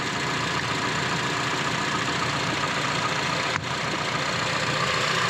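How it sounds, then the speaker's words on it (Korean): A third-generation Honda CR-V engine with 60,000 km idling steadily and smoothly, a continuous even rumble close by with no revving. "엔진 소리는 좋다"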